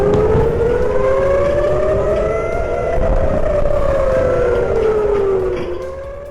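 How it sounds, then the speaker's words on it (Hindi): Civil defense air raid siren wailing in Beersheba, Israel, its pitch slowly rising and falling over a continuous rumble of passing road traffic, loud and sustained throughout. "दोपहर के वक्त अचानक सायरन बजने लगा।"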